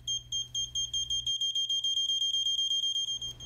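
Rapid electronic beeps from an Arduino buzzer pulse in a fast, steady stream, sharp and close, with no voices.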